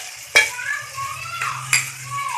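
Chicken pieces frying in a pan with turmeric and coriander powder, a faint sizzle broken by three sharp clinks of a spoon stirring against the pan.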